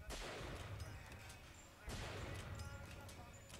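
Enemy gunfire aimed at the player in Bioshock Infinite, with two heavy bursts of shooting and a broad, noisy combat din, while a player talks over it.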